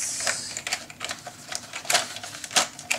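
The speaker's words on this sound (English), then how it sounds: "And then I cut it" Paper being cut for a Halloween scrapbook mini album, heard as a quick series of crisp, light snips and rustles at close range with no talking.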